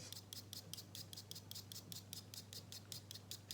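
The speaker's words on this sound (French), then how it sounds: "avec votre cutter, vous allez gratter votre pastel afin de laisser le piment directement sur le papier" A cutter blade scrapes a stick of dry pastel onto paper in quick, evenly spaced strokes, a faint crisp scratching repeated many times close up against a quiet background.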